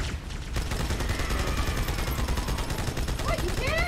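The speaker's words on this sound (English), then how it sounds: "I can operate this big gun." A big mounted gun in Halo 2 fires continuously, a dense, loud rapid stream of shots close up for the whole stretch, with faint chirping game effects near the end.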